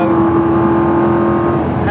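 BMW V8 engine fitted in a Mini, holding a steady, loud droning hum with a constant pitch through the whole stretch, close and continuous, with no talk over it.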